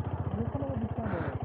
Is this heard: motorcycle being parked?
yes